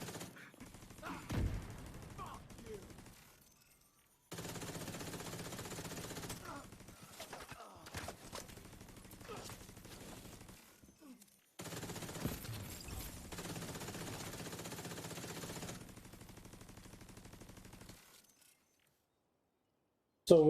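Bursts of automatic turret gunfire in The Division 2, a few dense sustained volleys separated by short gaps, loud and close, with game effects mixed in.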